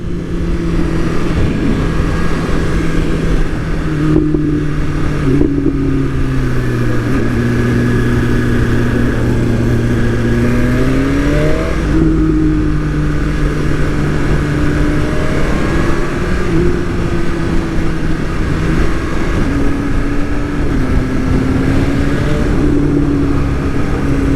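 A BMW S1000RR sport motorcycle engine revs loudly and close, its pitch rising and falling repeatedly in smooth sweeps over a steady idle drone.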